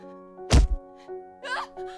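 A single heavy, dull thump of a brutal blow to a body in an audio drama, then a lighter knock and some scuffing, all over a sustained low musical drone. No voices are heard.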